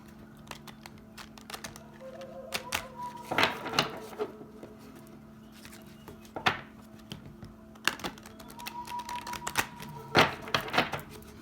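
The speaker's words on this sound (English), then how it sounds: "Shuffle 3 times." Soft papery slaps and riffles of oracle cards being shuffled, several short bursts spread out over a quiet background with no talking.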